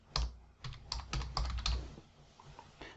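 Fingers typing on a computer keyboard while naming a submodel in data modelling software, a close run of uneven key clicks in quick bursts with brief pauses, no voices.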